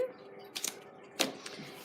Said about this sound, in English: And let's just shuffle a few more times.